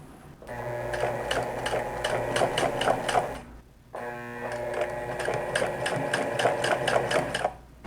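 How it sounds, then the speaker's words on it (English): A sewing machine runs close up while top stitching fabric to cover serged edges, making a fast, even mechanical whirr in two long runs separated by a brief pause. "so a bit of top stitching is in order"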